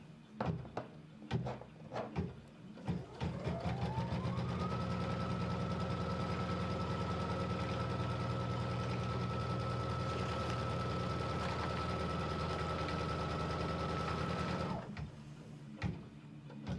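A sewing machine stitches a quarter-inch seam, starting with a few clicks before running up to a steady, even mechanical whir that holds for about ten seconds and then stops, followed by light handling sounds.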